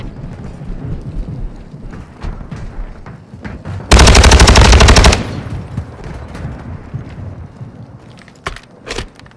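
Call of Duty gunfire on the Al Mazrah map, one loud, tight burst of rapid automatic fire lasting just over a second, set against a rumbling, rain-like battlefield ambience with scattered distant shots.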